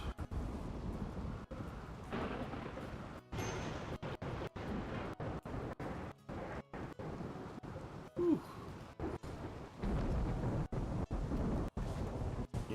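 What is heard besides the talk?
thunder in the Rimworld: Odyssey video game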